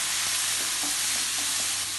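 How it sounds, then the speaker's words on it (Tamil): Chicken pieces frying and being stirred in a pan for chicken spaghetti, a steady close sizzle with soft scraping stirs, no talking. "எடுத்து வச்சிருக்க chicken pieces-அ இதல சேர்த்தறலாம் சேர்த்து நல்லா mix பண்ணி விட்டுறோம்"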